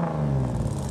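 A cammed Chevrolet Camaro SS engine starts up with a brief, loud, rough rumble that settles into a lumpy idle, heard close by with no talking.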